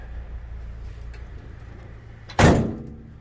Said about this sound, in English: The doors are all just a little rickety, meaning you just have to really slam